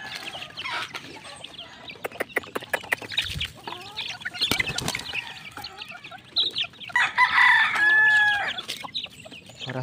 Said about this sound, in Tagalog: Ayan po mga kaibigan, nabigyan na po natin ng patuka itong ating mga sisiw dito.